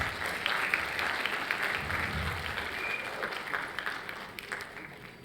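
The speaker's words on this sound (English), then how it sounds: "Let's give her a huge round of applause, parents" Parents in a school hall clap steadily at an annual day function, a dense, sustained round of applause that carries through from start to finish with no voices standing out.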